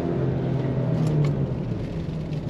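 A 2022 Ford Explorer Timberline SUV accelerating on throttle, a steady low engine rumble and whir heard from inside the cabin, loud and continuous with no talk.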